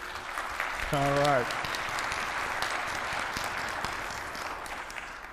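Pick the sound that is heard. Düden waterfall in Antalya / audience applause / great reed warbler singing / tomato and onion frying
audience applause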